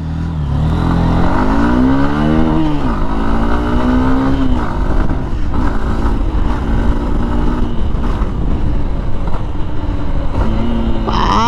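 A Hero Xtreme 160R motorcycle engine revs hard and accelerates up through the gears, loud and close, with rising whines falling back at each shift.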